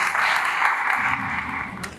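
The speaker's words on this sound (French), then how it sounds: "Veuillez applaudir les étudiants." Applause from the audience for graduating students at a School of Ministry graduation ceremony in Haiti, a dense, steady wash of clapping heard up close for the full two seconds.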